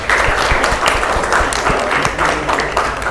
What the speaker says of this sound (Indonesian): aplaus untuk kalian semua.